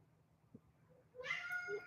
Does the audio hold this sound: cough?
no